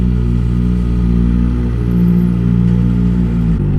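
Kawasaki ZX-4RR motorcycle with an aftermarket exhaust, its engine a loud, steady low rumble close by, a dense idle-like drone that holds level for the whole stretch with only slight swells.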